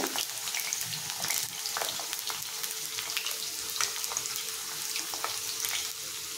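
Bitter gourd pieces frying in a pan over a medium flame give a steady, close sizzle with dense crackling and small pops throughout, with no voices.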